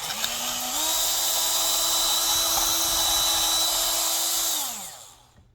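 A power drill bores into a Mitchell MS100 guitar body from the inside, a steady high whine that ramps up, holds for about four seconds, then winds down as the bit stops.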